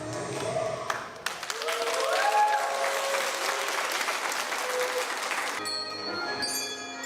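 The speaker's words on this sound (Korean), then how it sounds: "내 자매가 누구보다도 더 큰 박수로 응원해 주니까" An audience in Mongolia gives warm, sustained applause after a group dance performance, steady clapping with faint musical tones drifting through and a brief ringing tone near the end.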